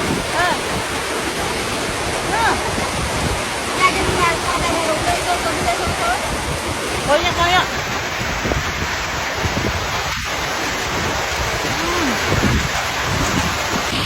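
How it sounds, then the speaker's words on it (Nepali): Heavy rain pours down at Selfee Danda in the hills of Palpa, Nepal, a dense, roaring wash of water that stays loud and constant for the whole stretch. "साथीहरू यत्रो ठुलो पानी पर्यो।"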